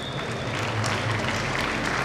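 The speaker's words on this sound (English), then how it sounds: "Give them a big round of applause." Applause at a school investiture and scholar badge ceremony, a brief burst of steady crowd clapping in a hall, dense and continuous throughout.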